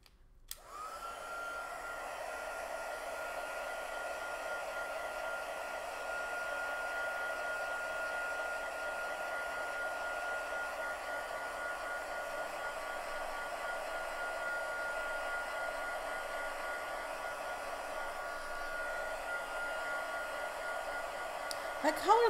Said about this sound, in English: Let me blow dry the end a little bit.